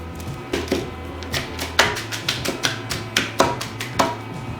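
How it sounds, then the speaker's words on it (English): Knife chopping half an onion on a cutting board in a home kitchen, a series of close, crisp irregular chops with about a dozen sharp strikes spaced unevenly, alone without talk. "So to pass the time here, we're gonna cut up half an onion."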